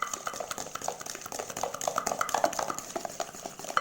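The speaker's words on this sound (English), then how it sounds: "So I want to mix until all the sugar is dissolved and the egg is white" Egg and sugar being mixed by hand in a bowl for puff puff (kaimati) batter, steady rapid scraping and clinking of a utensil against the bowl, close and continuous with no talking.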